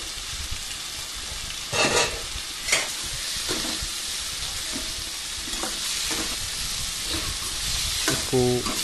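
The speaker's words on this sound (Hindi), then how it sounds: "इसको थोड़ी थोड़ी देर में घुमाते भी रहेंगे ताकि ये बर्तन से चिपके ना" Chopped tomatoes fry in a pan for a breakfast made from leftover roti, giving a steady sizzle with intermittent scraping clinks as a spoon stirs them, close and alone.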